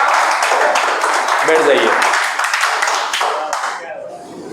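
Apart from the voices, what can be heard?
classroom applause for a student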